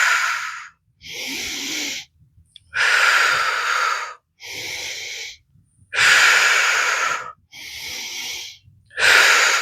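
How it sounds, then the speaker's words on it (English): Deep breaths drawn in and blown out during a yoga session, seven or so loud, close, airy exhalations of about a second each, separated by brief pauses, with no talking. "Make sure you're breathing deep and blowing out the breath"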